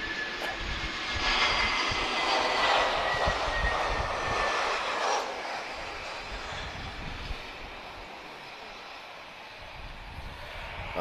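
A TAP Airbus A319's engines roar and whine at an airport, a loud sustained jet noise that peaks early and slowly eases, with a voice talking faintly underneath.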